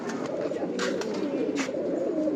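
A single prized flying-loft pigeon coos in low, rolling pulses close to the listener, steady and uninterrupted, with no voices.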